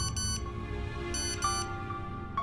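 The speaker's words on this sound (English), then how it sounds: "the mobile phone went with a text message" A mobile phone's text message alert goes off indoors late on a weekday evening beside a fire, a short burst of bright electronic tones repeating a few times at moderate loudness over a steady low room hum.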